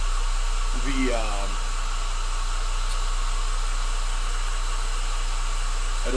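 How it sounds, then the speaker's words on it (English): A hair dryer blows with a steady, loud whooshing hum, briefly rising in pitch near the start, then running evenly throughout. "I'm going to grab my trusty rusty hair dryer, speed that up"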